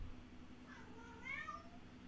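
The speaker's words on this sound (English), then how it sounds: "That's just the cat crying." A house cat cries with a single drawn-out, wavering meow, faint and alone against a low background hum.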